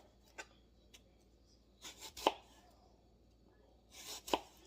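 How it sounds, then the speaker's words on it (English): A knife slicing an apple for an autumn salad, giving a few sparse, crisp cuts and scrapes against a board with quiet pauses between them, close up and without talk. "I'm just going to slice this up"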